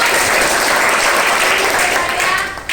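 Classmates in a school classroom break into loud, close applause, a dense burst of clapping that holds steady and then tapers off near the end.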